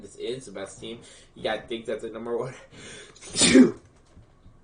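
A person talking about NFL players breaks off for one loud, close, abrupt sneeze near the end, with a man's speech before it.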